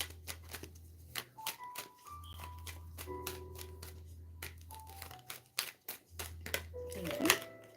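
Tarot cards being shuffled and handled, a series of quick papery riffles and flicks close by, interleaved with a person talking over a low hum.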